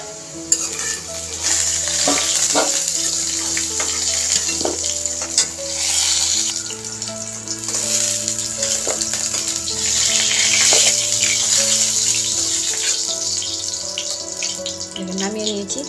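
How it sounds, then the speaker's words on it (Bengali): Potatoes frying in hot oil in a pan for a vegetarian chana paneer masala: a steady, dense sizzle runs throughout, with occasional stirring scrapes and clinks close by. "আলুগুলি ভাজা হয়ে গেছে আর সেদ্ধ হয়ে গেছে।"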